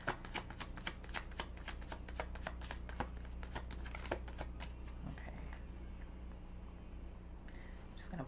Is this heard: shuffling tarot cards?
yes